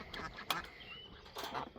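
A duck on a homestead gives a couple of short nasal quacks, a pair near the start and another burst near the end, fairly close over a quiet barnyard background.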